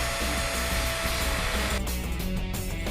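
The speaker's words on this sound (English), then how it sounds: "Clamp into place and drill 3/4 of an inch into the block." A power drill bores axle slots into a pinewood derby car block held in a clamp, giving a steady, loud whirring whine that runs the whole time before easing slightly near the end.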